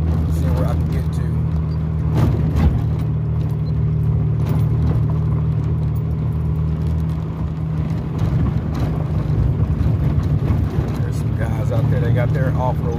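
A 2011 Jeep Wrangler in two-wheel drive cruises a dirt trail at Sycamore Creek, Arizona. Its steady, low engine drone is heard from inside the cab, continuous and fairly loud, with rough rumbling throughout.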